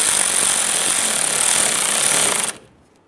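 A power tool rattles loudly and continuously while tightening outer tie rod clamps on a 1994-2001 Dodge Ram 1500, holding a harsh hammering buzz before cutting off abruptly near the end.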